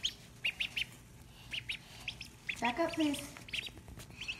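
Ducklings peep in short, high, repeated bursts close by, scattered across the whole stretch, while a person speaks briefly in the middle.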